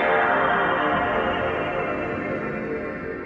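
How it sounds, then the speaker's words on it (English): PlayStation 2 console startup sound: a sustained, airy synthetic drone that stays loud and alone throughout, with a dense shimmering texture that slowly thins toward the end. "A PS2, it makes this sound."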